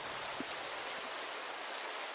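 Heavy rain pours steadily, a dense, even hiss of falling water with no gaps, close and constant throughout.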